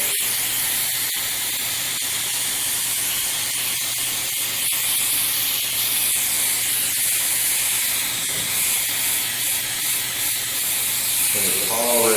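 Airbrush laying a light coat of brown paint for a wood texture, producing a steady, continuous airy hiss throughout, close up, with a few faint clicks and no speech.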